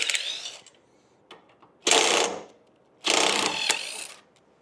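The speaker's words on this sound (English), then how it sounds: "we're going to take the T45, remove these 2 screws" A T45 Torx bit on a ratchet backs out two screws from the rear brake of a Harley-Davidson Lowrider S, heard as two close, separate bursts of rapid ratcheting clicks with quiet gaps and faint taps between them.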